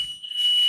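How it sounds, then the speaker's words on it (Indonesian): A WiFi smart motorcycle anti-theft alarm sounds from its speaker, a steady, piercing high-pitched electronic tone that grows louder and holds for a brief moment with no voices. "Misalnya sekarang ada yang menggetar, mencoba membuka motor Anda, maka akan bunyi."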